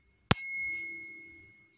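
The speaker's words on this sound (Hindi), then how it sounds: "तो 480 मतलब हाई फ्रीक्वेंसी हाई पिच की आवाज होगी ये।" One sharp strike sets off a bright, high-pitched 480 Hz tuning fork tone that fades slowly over about a second and a half.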